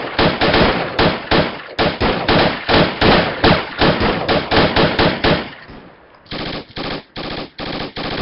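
Gunfire in the video game Project Reality, loud, rapid automatic bursts of shots in a fast even rhythm, a brief pause, then more shots, close and dominant with no talk over it.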